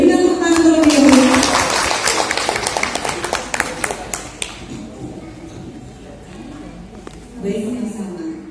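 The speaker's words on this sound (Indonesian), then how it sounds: "Berikan tepuk tangan terlebih dahulu." An audience at an UMKM Go Digital small-business training event in a hotel in Jember claps, loud and dense at first, then thinning to scattered claps that fade as a voice begins talking.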